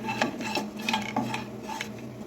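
Roasted almonds are stirred quickly in a pan at home, giving repeated scraping and rattling strokes in an uneven rhythm, close and fairly quiet.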